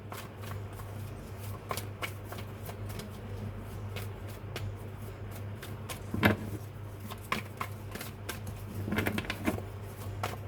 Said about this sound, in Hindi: अब हम टैरोट से देख लेते हैं यहाँ से क्या कार्ड्स आने वाले हैं